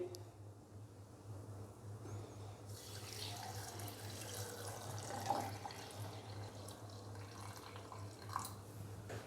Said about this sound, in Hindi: तो अभी मैं इसके अंदर 2 गिलास डालूंगा पानी के।